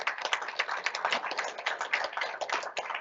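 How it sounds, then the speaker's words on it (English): Scattered applause at a school board meeting honors a special education director, a short burst of many quick overlapping claps from a modest crowd, fairly even in loudness and without speech. "Let's give her a hand."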